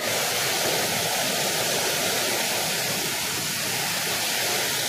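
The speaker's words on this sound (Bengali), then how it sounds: "দেখতে পাচ্ছেন ঝর্ণার জলটা বয়ে যাচ্ছে" A waterfall in the Ayodhya hills of Purulia roars steadily, a dense, even, continuous rush of falling water, loud and close, with no voices.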